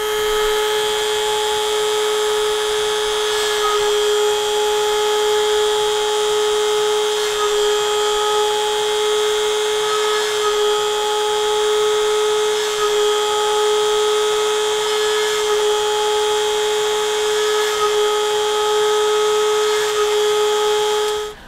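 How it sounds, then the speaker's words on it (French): A vertically mounted Dremel drills fine holes in a homemade toner-transfer printed circuit board, giving a loud, continuous high-pitched whine that holds steady for the whole stretch with faint changes as bits bite, no voices. "je vous suggère vraiment d'avoir votre dremel montée verticalement pour faire les trous"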